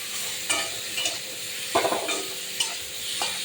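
Tilapia and ridge gourd curry sizzles steadily in a pan, with a spatula scraping and stirring through it in several distinct strokes over the constant frying hiss.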